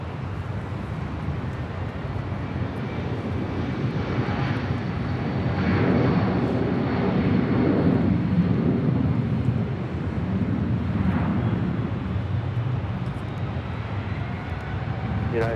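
A Delta Boeing 757-300 jet departing LAX toward Detroit, a steady broad engine roar with wind buffeting the microphone, swelling slightly through the middle and holding loud and continuous throughout.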